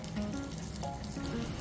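Onions sauté in a pan for coconut prawn curry, giving a soft, steady sizzle and light crackle with no talking.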